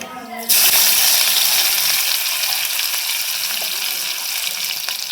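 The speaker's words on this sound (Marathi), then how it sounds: "मोहरी चांगली तडतडायला लागली" Mustard seeds crackle and sizzle in hot oil for a Marathi home-style tempering, a loud bright hiss that bursts in abruptly and holds steady throughout, with faint popping over it and no talking.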